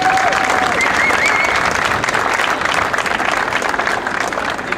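Loud, continuous applause fills the room at a Hall of Fame induction ceremony for a handball coach, a dense wash of many clapping hands with a brief whistle near the start.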